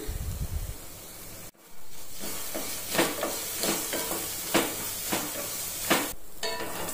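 Curry leaves, green chillies and turmeric fry in oil for pulihora, a loud continuous sizzle with repeated bursts of spatter and stirring scrapes after a brief sharp break early on.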